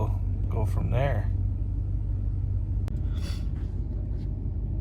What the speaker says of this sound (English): So the truck's running